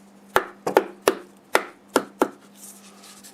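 A chisel is tapped with a small wooden stick to knock the tenon off a large natural-edge black locust bowl. Six sharp, close wooden knocks come in quick, uneven succession, then fall quiet.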